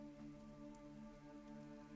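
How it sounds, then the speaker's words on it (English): Soft, steady rain patters down from a conjured gray cloud in a fantasy scene, a faint continuous hiss of falling drops over a low background hum with no voices. "But a single conjured gray cloud rains down on you, protecting you from the flames."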